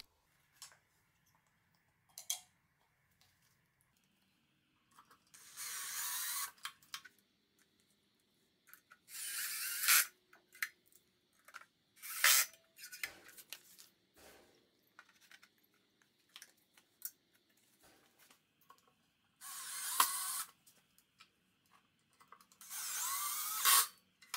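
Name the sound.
driving screws into Wolfcraft workbench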